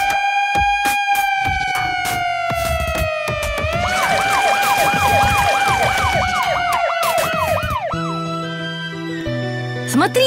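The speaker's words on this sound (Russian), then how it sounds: "Здесь Донна, скорая помощь." An ambulance siren wails in a long rising tone, switches to a fast warbling yelp, then drops away into other tones near the end.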